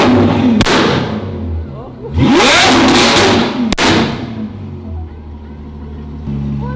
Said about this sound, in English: I hear the car, it's so loud.